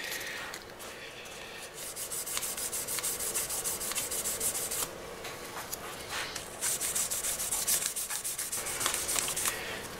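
Guitar frets are polished with 800 grit sandpaper in quick, steady back-and-forth rubbing strokes. The close, soft scratchy hiss keeps a fairly even rhythm throughout.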